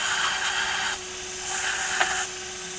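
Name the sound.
small wheel attachment spinning on a rotary tool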